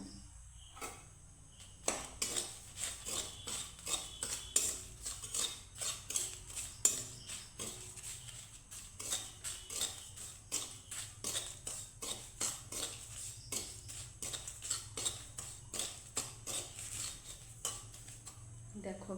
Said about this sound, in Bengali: আমি তিনটে শুকনো লঙ্কা ভেজে নেব